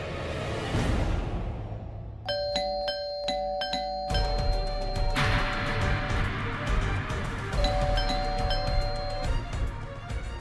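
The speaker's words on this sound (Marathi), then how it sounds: "कशाला बेल वाजवताय?" A doorbell chimes several times in quick succession, bright ringing tones repeating over a busy, noisy background.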